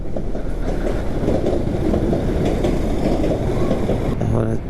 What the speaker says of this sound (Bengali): ভাই ট্রেন যাচ্ছে ভাই এই যে পুরে ট্রেন যাচ্ছে